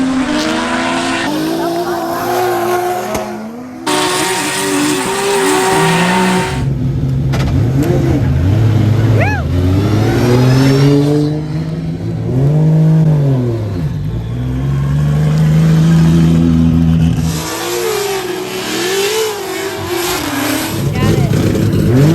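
A drift car at a drifting competition revs hard, engine pitch climbing and falling through repeated throttle blips with tire squeal, loud and near while people talk over it.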